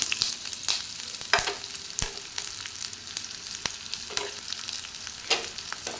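Onion and curry leaves frying in oil in a pan for tomato kurma tempering, a close steady sizzle broken by sharp spatula taps and scrapes every second or so, no talk.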